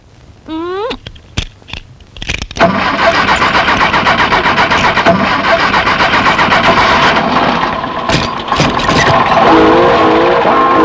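A car engine cranks in a few short bursts after brief voices, then catches and settles into a loud, close, steady running rumble that continues to the end.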